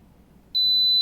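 A drone remote controller for the SG906 MAX 3 EVO with a 3-axis gimbal gives a single steady high beep on a long press of the zoom button, starting midway and holding, close and clear over a quiet background.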